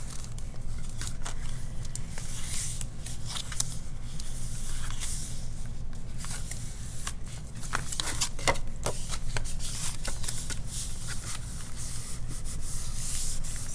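Paper envelope rubbed down firmly by hand to secure adhesive, a soft scratchy friction heard in repeated uneven strokes, close and fairly quiet, with no talking.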